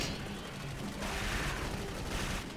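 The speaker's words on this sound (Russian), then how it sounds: "Вот это выстрел." Continuous dense rumble of gunfire and explosions in the video game Clive Barker's Jericho, with no clear single shot standing out, loud and steady throughout like a game battle.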